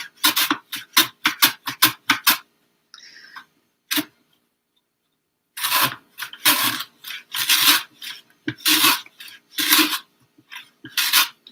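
Fresh ginger is sliced as thinly as possible for pickled ginger with shiso: a quick run of crisp, close cutting strokes, a short pause, then another burst of slightly slower, rougher strokes, with no voices.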